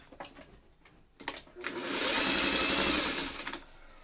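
A sewing machine stitches a seam from tip to tip, a close whirring mechanical buzz that starts after a few small handling clicks, runs steadily for about two seconds, then stops.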